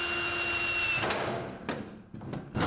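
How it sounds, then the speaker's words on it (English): A power drill runs steadily close up, boring into material while coolant plumbing for a rear-mounted radiator is fitted, then breaks off into sharp, scattered knocks and clatters as the drill bit snaps. "broke that drill bit right off"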